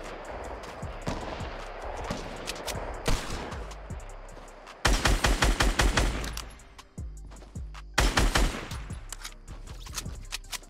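Gunfire in a battle royale video game: repeated bursts of rapid automatic shots, with two loud close volleys in the middle and quieter scattered shots around them.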